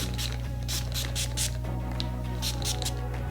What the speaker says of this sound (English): go in with my Sleek It Iron Straight Heat Spray and just apply that